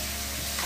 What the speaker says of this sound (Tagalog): halo-haloin lang natin para magsama-sama dun sa ating pork yung lasa ng ating sibuyas at bawang